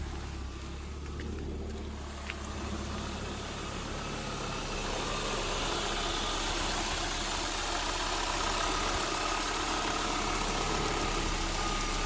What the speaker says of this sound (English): It idles perfectly every time.